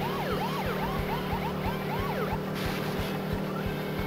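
A police car siren in a video game wails in rapid, repeating up-and-down sweeps over a steady engine drone, loud and close, with no talking.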